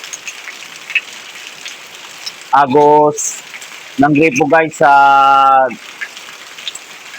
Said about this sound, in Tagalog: Lakas pa naman ng ulan guys oh.